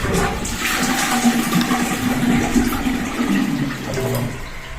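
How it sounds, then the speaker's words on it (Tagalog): A toilet bowl flushing after its flush mechanism has been replaced, then the tank refilling with a steady rushing, hissing flow of water, close and continuous with no talk. "At nagre-refill na po ulit siya ng tubig"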